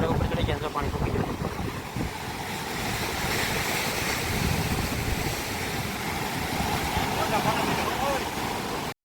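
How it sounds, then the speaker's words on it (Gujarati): Large sea waves surge and break along a shore in a steady, loud wash of surf with wind noise on the microphone, continuing without pause throughout. "મોટા મોટા મોજ આવવા માંડ્યા છે."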